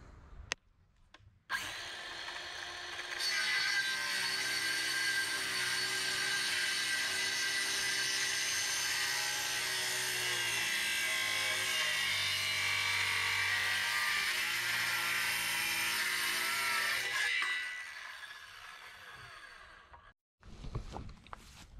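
A power tool grinds steadily along the edges of a wooden boat trailer bunk board, bevelling it, in one loud continuous pass of about fifteen seconds after a few short starts, then cutting out with a brief final burst.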